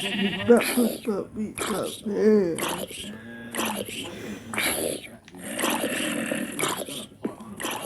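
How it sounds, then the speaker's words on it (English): Minecraft sheep bleat in short repeated calls, mixed in with a person talking in between the bleats. "I need to get the sheep up here."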